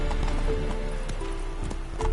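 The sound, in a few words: horse Roach galloping in video game The Witcher 3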